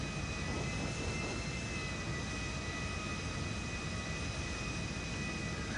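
Small four-seat aircraft engine droning steadily in flight within GTA Online, a continuous broadband roar with a faint high whine, constant loudness throughout with no talking.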